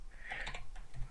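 Typing on a computer keyboard gives a short, faint burst of soft, quick key taps close by, lasting about a second with no speech.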